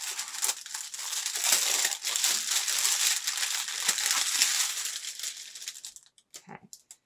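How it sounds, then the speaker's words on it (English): Sustainable packaging around a bra-making kit crinkles and crumples loudly up close in continuous bursts, then thins to a few scattered rustles at the end. "Sustainable packaging, but loud packaging."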